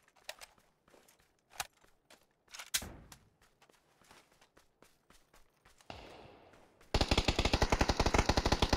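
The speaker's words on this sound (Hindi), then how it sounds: "फायर आ रहा है भाई, फायर।" Gunfire in the PC battle royale game PUBG: scattered single shots and footsteps early on, then a loud, rapid automatic burst of evenly spaced shots close by through the final seconds, with no talking.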